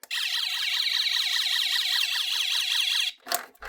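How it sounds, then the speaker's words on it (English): A generator interlock sensor alarm, triggered by utility power, wails continuously in a rapid rising-and-falling pattern for about three seconds, then cuts off abruptly, followed by a brief clatter. "this is the alarm that comes on whenever it senses power coming on"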